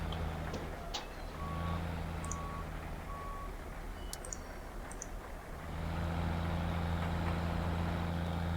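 Lorry in the farming game Farming Simulator 15 gives three evenly spaced reversing beeps over a low idling engine drone, which swells louder toward the end.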